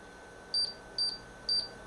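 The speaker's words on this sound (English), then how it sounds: "then we're going to start all our timers right now" Timers beeping as they are started, three short high electronic beeps in an even rhythm about half a second apart, clear and close over a low steady hum.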